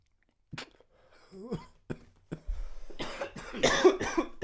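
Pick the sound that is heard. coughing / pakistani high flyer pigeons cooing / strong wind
coughing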